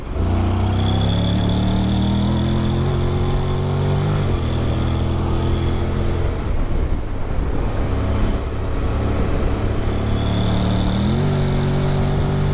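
A 2021 Honda Forza 750 scooter accelerates uphill, its engine loud and close with a rising drone that steps up and shifts pitch as it automatically changes gear and kicks down.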